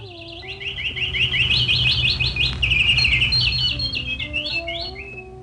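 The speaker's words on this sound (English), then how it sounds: "There were lots of trees full of fruits and beautiful chirping birds." Many songbirds chirp and tweet among fruit trees in a garden, a dense, continuous chorus of high overlapping calls over a low steady background hum, with a few thin whistled notes standing out.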